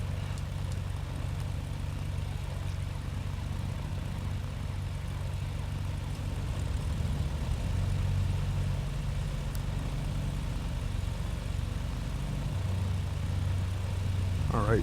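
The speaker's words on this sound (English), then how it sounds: "Let's just go ahead and let's get the second engine started" A twin-engine aircraft's second engine spooling up in Microsoft Flight Simulator 2020, a steady low droning hum that rises slightly partway through, with faint background sound and no clear voice.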